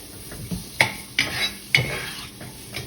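Whole spices for a curry frying in a hot pan, a low steady sizzle broken by several sharp scraping stirs of a utensil against the pan.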